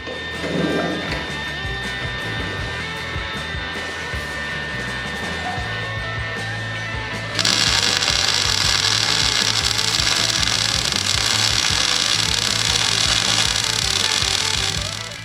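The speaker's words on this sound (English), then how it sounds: "Now I just got to weld these in place and it should be all set." New lower air bag suspension mounts are welded onto a 1940 Chevy, giving a steady crackling, hissing buzz that grows louder and brighter partway through and then holds until a quick fade.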